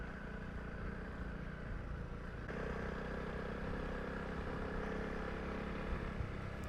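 A Honda CRF 300 Rally motorcycle rides a mountain trail in the Danielshoogte Nature Reserve, its engine a steady, continuous drone with wind and rattle throughout, no speech.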